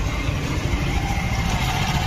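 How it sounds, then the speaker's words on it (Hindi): Motorbike engine running steadily close by after a clutch cable change, a low even idle rumble with broadband mechanical noise and no talk. "गाड़ी का आवाज सुनाओ।"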